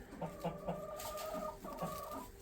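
Chickens cluck in a backyard coop, a series of short rhythmic clucks from a nearby bird, with a rooster among the flock, fairly quiet overall.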